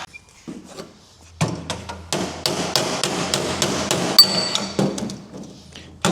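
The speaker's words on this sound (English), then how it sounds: "I'm just going to hammer over the flange in a couple of spots." Hammer blows fold over the flange along the bottom of a 1939 Zephyr car door, a series of sharp, close metallic strikes at an uneven pace, some quick and light, others heavier.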